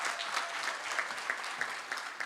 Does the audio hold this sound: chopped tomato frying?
no